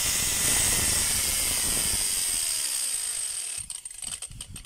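A Carlton CT5100 4-inch angle grinder with a worn gear runs with a loud, rough whine that winds down over a few seconds, followed by scattered clicks and handling knocks.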